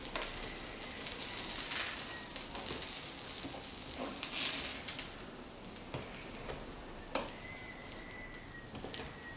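Chive-stuffed pancakes frying in a pan give a faint, steady sizzle with soft crackles and occasional louder pops, low and continuous throughout.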